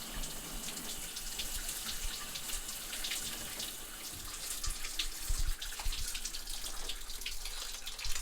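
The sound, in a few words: running water of a cold shower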